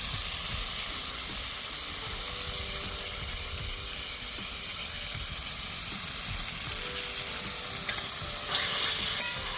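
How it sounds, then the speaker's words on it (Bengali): Chicken frying in ghee in a pan for a beg moti chicken dish, giving a steady close sizzle and hiss that runs unbroken throughout, with a few stirring scrapes and a brief louder burst near the end. "এবার আমি চিকেন দিয়ে দেবো। এবার আমি চিকেনের মধ্যে দিয়ে দেবো 2 চামচ ঘি।"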